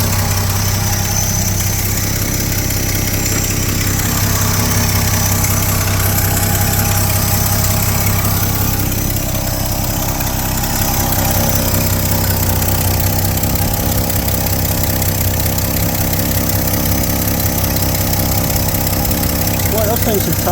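A 1972 Chevy C10 pickup engine idles close up, a loud, steady, rumbling drone with a faint knock, as it blows exhaust and oil from a leaking manifold.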